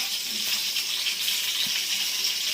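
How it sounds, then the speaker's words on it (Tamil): Sliced onions hitting hot oil tempered with fennel seeds in a home kitchen, giving a steady, close, hissing sizzle that holds unbroken throughout, with no voices. "சோம்பு கொஞ்சம் தாளிச்சதுக்கு வெங்காயம் போட்டுக்கலாம்."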